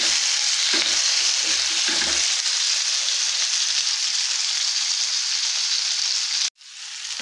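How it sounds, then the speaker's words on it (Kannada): Chopped tomato fries in a pan for horse gram sprout sambar, a steady close sizzle with a few low stirring knocks early on, then a short break before the sizzle resumes. "ಇದನ್ನು ಸ್ವಲ್ಪ ಫ್ರೈ ಮಾಡ್ಕೊಳ್ಳೋಣ. ಅದು ಫ್ರೈ ಆಗ್ತಾ ಇರಲಿ."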